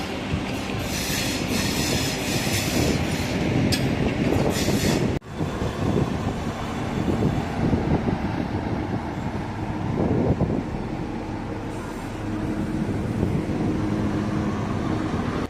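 A Vande Bharat train rumbles past close by with clattering wheels and metallic squeals as it rounds a curve, loud and continuous throughout.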